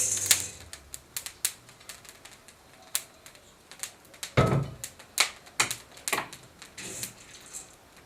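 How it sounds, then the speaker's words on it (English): Coffee beans still popping after roasting in a cast iron pan, heard as scattered sharp clicks and snaps at an irregular rhythm, close and fairly quiet, with no talk over them. "Now you can hear it still popping"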